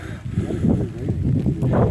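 Wind gusts against the microphone in a low, rumbling roar, steady and close, in rain and cloud on a rocky mountain trail of the Appalachian Trail.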